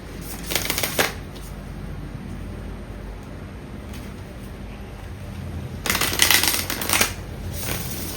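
Tarot cards are shuffled and bridged in two bursts, a riffling flutter that rises to a brief crisp cascade, then a longer second riffle, close and moderately loud with quiet stretches between.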